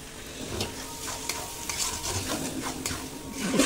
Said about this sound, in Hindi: टमाटर और प्याज और काजू का जो रखे थे उसका पेस्ट बना के डाल दी